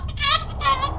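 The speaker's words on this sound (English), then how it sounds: "here's the rooster I smuggled on board." A rooster hidden under a bench inside a moon-bound projectile gives two short, harsh squawking calls in quick succession at close range, over a low rumbling background.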